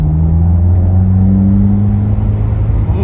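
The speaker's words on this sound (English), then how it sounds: "This is gonna be our first drive with the Remark exhaust." A 2015-or-later Subaru WRX's loud Remark axle-back aftermarket exhaust drones and revs, pitch climbing then settling, close and steady with no talking.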